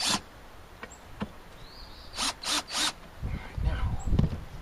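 A power drill pre-drills wood during a house rebuild, giving three short whirring bursts close by, followed by low knocks and shuffling handling noise.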